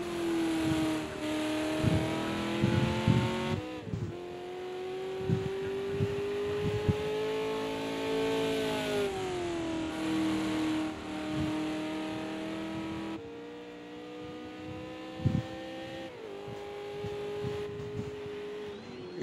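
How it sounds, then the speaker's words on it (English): Race cars lapping Silverstone in Project Cars 2 whine and rev at high pitch, engine tones rising and falling through gear changes, loud and close with no talk. "I love the way those cars sound"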